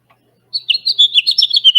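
A small bird sings a quick run of high, bright chirps and trills, close and clear against silence.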